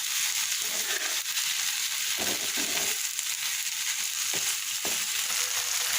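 Okra frying uncovered in a little oil in a pan, a steady close crackling sizzle running without a break, with a few brief stirring scrapes and no talk.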